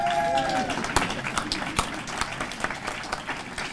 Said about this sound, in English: I haven't had this much applause in a long time